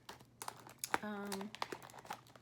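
Brief crinkling of plastic packaging being handled and opened, several quick rustles, with faint background sounds and a short tonal squeak in the middle.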